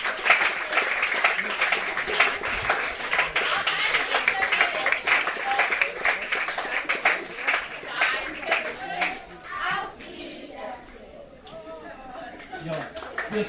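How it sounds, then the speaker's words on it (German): Sustained audience applause at a festival Lord of the Dance show fills the whole stretch, dense clapping under a loud announcer's voice over a PA, fading a little near the end. "Applaus und ganz Applaus für unsere Künstlerinnen und Künstler."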